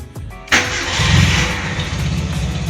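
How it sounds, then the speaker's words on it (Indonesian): A 1983 Mitsubishi Lancer SL engine cranks briefly and catches, then settles into a steady, close rumbling idle with no talking. "Sekarang kita cobain nyalain mesin mobil Lancer ini teman-teman"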